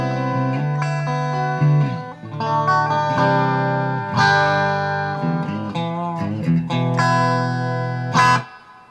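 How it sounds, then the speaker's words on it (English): Coil-tapped Strat with EMG pickups through a Carvin X100B clean channel with reverb, flat tone settings: a sequence of clean picked and strummed chords with sliding notes, bright and sparkly, with a reverb tail and a sharp accent near the end. "Clean sound. It's got a good reverb to it."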